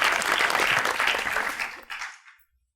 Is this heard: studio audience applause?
yes